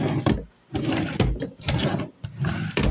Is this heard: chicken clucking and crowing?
no